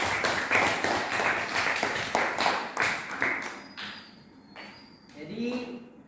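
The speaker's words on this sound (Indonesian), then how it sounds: "Kita berikan aplaus, apresiasi dari jawaban ini." A classroom claps in applause for a student's answer, a brisk burst of hand claps that fades out after a few seconds, leaving faint talk.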